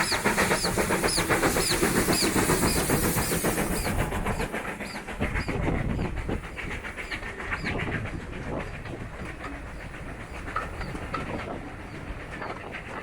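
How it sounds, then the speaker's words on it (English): A train runs along the coastal track near a bridge, a steady rolling rumble with rhythmic clatter, while birds and pigeons call nearby and the noise eases slightly toward the end. "The train is now approaching the bridge at Oyster Bend."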